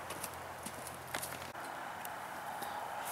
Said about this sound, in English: these are our two miniature donkeys.